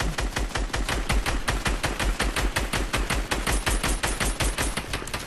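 A minigun in a video game shooter fires a long, unbroken stream of rapid, loud bursts in an even rhythm for several seconds.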